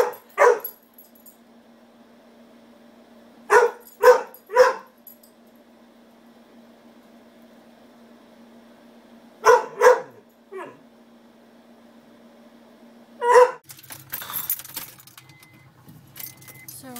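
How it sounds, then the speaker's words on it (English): Dog barking in short bursts indoors, clusters of two or three sharp barks separated by quiet pauses, close and loud, with rustling and jangling near the end. "I'm watching vlogs, and my dog is freaking out."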